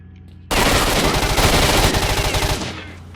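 Sustained automatic gunfire from a weapon in the video game STALKER, loud and close, a dense rapid burst lasting about two seconds after a quiet start, then trailing off.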